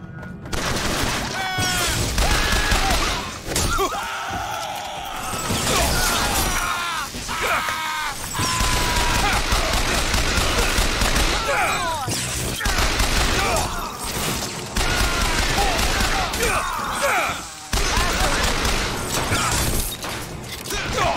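Gunfire from a weapon being test-fired in Bioshock Infinite, with repeated loud bursts, clattering mechanical sounds and crashes over game noise and voices, broken by a few brief pauses.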